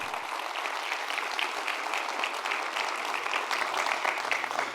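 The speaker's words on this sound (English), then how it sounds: "Round of applause for those block captains." An audience at a talk on community resilience claps steadily and enthusiastically, a dense sustained wash of applause filling the whole stretch with a few faint voices underneath.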